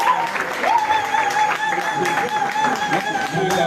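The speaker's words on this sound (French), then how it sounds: "Acclamons pour notre sœur Capucine" Applause from the congregation at a church consecration ceremony, steady and moderately loud, with a sustained tone and some voices mixed into the clapping.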